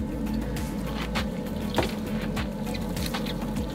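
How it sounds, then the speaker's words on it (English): Water drains out of an RV trailer, a continuous gurgling, splashing flow with scattered drips, steady and close. "Now we're draining. It's a lot of water."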